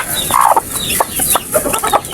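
Mother hen with her newly hatched chicks, clucking close and loud in short, agitated, repeated calls mixed with higher chirps, no voices.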